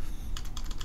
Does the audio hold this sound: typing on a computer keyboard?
yes